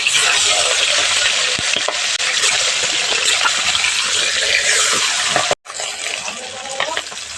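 Pieces of folui fish frying in hot oil sizzle loudly and steadily with occasional stirring clatter, cut by a brief gap near the end before the sizzle resumes.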